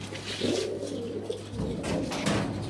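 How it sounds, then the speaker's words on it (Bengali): Pigeons in a loft coo steadily, low throaty rolling calls overlapping close by, continuous and moderately loud with faint background rustle and no talk. "এখন বাদ বাকি কবুতর বের করা হবে।"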